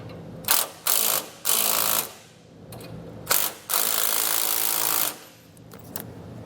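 A ratchet tightens a jam nut on a helper spring U-bolt during a Hellwig Load Pro 25 install on a 2017 Chevrolet Silverado, with several close, rapid clicking bursts separated by short pauses.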